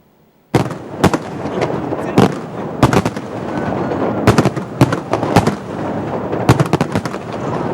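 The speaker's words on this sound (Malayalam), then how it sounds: "വെടിക്കെട്ടുകളാൽ ആകാശവിസ്മയമൊരുക്കി ആഹ്ലാദാരവങ്ങളോടെ" Sudden loud bangs of New Year 2016 fireworks burst at irregular intervals, some in quick clusters, over a continuous roar of crackling and distant celebrating crowd noise.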